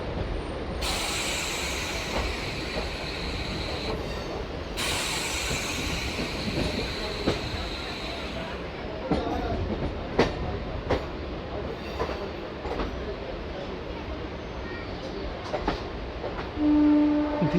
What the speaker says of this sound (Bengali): ধীরে ধীরে ট্রেন স্বাধীনপুর স্টেশনে এন্টার করছে।